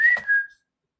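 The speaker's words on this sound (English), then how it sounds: "Whistle at him. Because I'm trying to get his attention." A person gives a single short whistle to call a dog, a bright tone that slides slightly downward, clear and close, ending abruptly and followed by silence.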